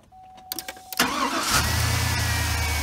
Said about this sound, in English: the car starts as it should.